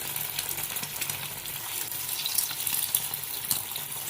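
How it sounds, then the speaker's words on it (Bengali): Masoor dal cutlets deep frying in hot oil give a steady, close bubbling sizzle with occasional brighter crackles and pops, moderately quiet and with no talking. "এটাকে ডিপ ফ্রাই যতক্ষণ না হবে ততক্ষণ অবধি কিন্তু ভাজতে হবে।"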